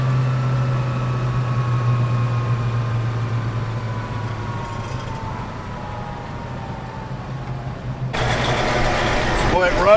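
A 1970 Ford Boss 302 car engine runs at a steady low idle, a deep continuous hum close by, rising briefly into a louder, broader burst near the end.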